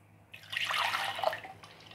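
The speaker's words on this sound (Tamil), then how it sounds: "இன்னுமே கொஞ்சம் தண்ணியை ஆட் பண்ணிக்கலாங்க." Water is poured into a cooking pan of vegetable gravy in one short splashing pour, about a second long, close by and fairly quiet.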